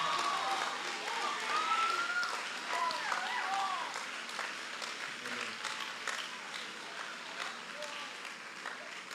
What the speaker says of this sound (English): give a clap for them